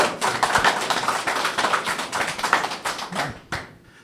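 A live audience applauds after a speaker is introduced at a culture talk: dense, steady clapping from many hands, loud and close, running throughout before tapering off near the end.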